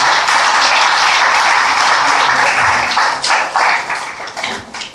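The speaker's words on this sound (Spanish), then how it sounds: "Damos un aplauso al Señor por ello" Church congregation applauding together, loud and close, a dense wash of clapping that thins and fades toward the end.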